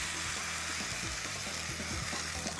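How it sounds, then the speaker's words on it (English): White wine hitting a hot pan, cooking for a poached stuffed Rangitikei chicken breast, gives a steady dense sizzle with soft bubbling and occasional faint scrapes throughout, fairly loud and close. "I'm just going to deglaze it with a bit of white wine"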